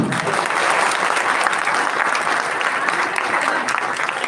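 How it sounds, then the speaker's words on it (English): A huge round of audience applause at an engineering college inaugural session, dense, loud and steady throughout, with crowd noise mixed in and no talking. "Huge round of applause."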